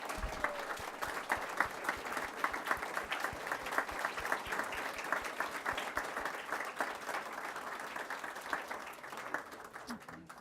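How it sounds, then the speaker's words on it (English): An audience applauds steadily for retiring honoree Alice Carey at a League of Women Voters candidates forum, many hands clapping at a moderate level for about ten seconds, with some voices mixed into the clapping. "So I'd like to have everybody give her a nice round of applause."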